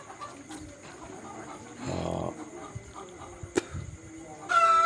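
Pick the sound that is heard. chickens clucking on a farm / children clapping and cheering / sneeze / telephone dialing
chickens clucking on a farm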